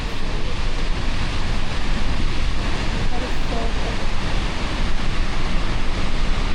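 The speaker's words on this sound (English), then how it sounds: "This waterfall is huge." A huge waterfall in Washington roars as a dense, steady rush of falling water, loud and close, with a faint rain-soaked hiss around it.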